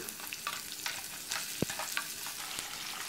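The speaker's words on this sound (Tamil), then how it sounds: "நறுக்கி வச்சுருக்க நாலு பெரிய வெங்காயத்தை சேர்த்துருங்க நல்லா வதக்கி விடுங்க" Chopped onions for masala dosa filling sizzle softly in hot oil while a spoon stirs and scrapes the pan now and then, quiet and close.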